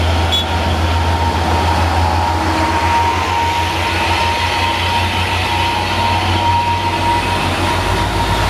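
A loaded truck grinding up a steep hill road makes a steady, loud rumbling drone like a passing train, with a low rhythmic pulsing throughout and no talking.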